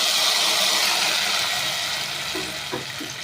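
Hot tempering of dried red chilli, curry leaves, cumin and a pinch of asafoetida is poured into simmering Andhra-style sambar. A loud, close frying hiss fades gradually, broken near the end by a few soft clanks of a stirring utensil.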